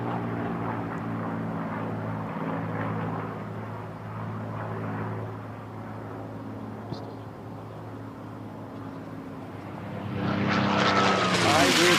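A P-51 Mustang races in the Unlimited Class at the 2022 National Championship Air Races. A steady, heavy piston-engine drone fills the air and swells louder near the end, with a voice faintly audible beneath it.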